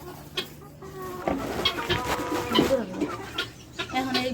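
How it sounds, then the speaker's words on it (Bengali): Chickens cluck and chatter nearby in a busy flock, with overlapping calls and some background noise. "মুরগিগুলো আর শান্তি দিচ্ছে না"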